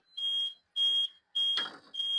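A ramp warning buzzer beeps in four evenly spaced, sustained tones, fairly loud and shrill, with brief silences between.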